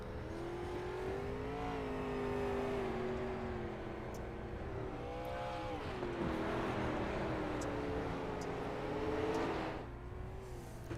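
A dirt-track race car engine at Eldora Speedway roars loud and steady, its pitch rising and falling through laps with a wavering, sustained drone.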